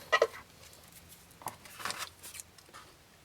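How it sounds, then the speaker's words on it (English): Scissors trim paper for journal cards, giving a few quiet, crisp snips and rustles spaced irregularly against a silent background. "get your scissors."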